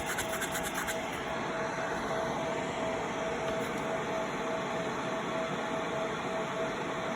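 Steady scratchy rubbing, continuous and close, as small sanding pads are worked back and forth by hand over an engraved knife blade, with no talking.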